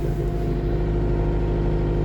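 A utility tractor engine runs steadily, heard from inside the closed cab as a constant, low, droning hum with a firm tonal drone, close and unbroken, without talk.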